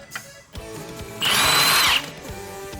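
A power tool spins up in one loud burst of under a second to remove a car bolt with a 17 mm socket, with quieter clicks and handling noises before and after.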